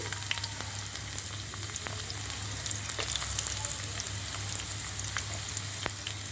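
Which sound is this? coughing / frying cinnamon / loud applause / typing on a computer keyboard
frying cinnamon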